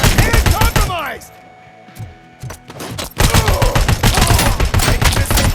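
Gunfire in RoboCop: Rogue City, with loud rapid bursts of shots and sharp impacts, a brief lull, then more dense firing with a voice calling out amid the shooting.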